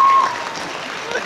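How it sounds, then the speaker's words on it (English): Audience applause at a fan convention panel show, a steady wash of clapping hands that stays fairly loud and slowly thins over about a second, with a brief high whistle-like tone near the start. "I think that should have had a huge applause."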